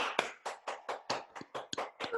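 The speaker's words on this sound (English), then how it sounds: "let's have a last round of applause" A small audience gives a final round of applause at an arts event: a sparse, evenly spaced run of close hand claps, about ten distinct claps with no talking.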